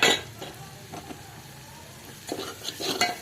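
Masala of spices sautéing in hot oil in a pan for a tomato saar, a soft steady sizzle with occasional stirring scrapes and light clinks, close and fairly quiet.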